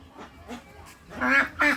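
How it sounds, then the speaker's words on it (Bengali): Two ducks on water in a village give nasal quacks, a few soft calls followed by two louder, close, rasping quacks in quick succession. "এরকম পানি তে এই দুইটা হাঁস কিন্তু সর্বোচ্চ সুন্দর"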